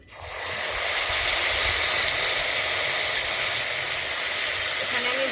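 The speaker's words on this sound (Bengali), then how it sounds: "এরপরে আমি দিয়ে দিচ্ছি অল্প একটু জল" A splash of water hits sugar in a hot pan while making laccha semai, setting off a sudden loud hiss of steam that holds steady to the end.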